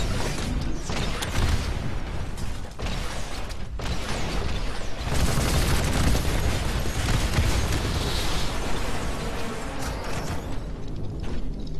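Gunfire and mechanical battle noise from the video game Titanfall form a dense, loud, continuous roar with repeated bursts and clanks throughout.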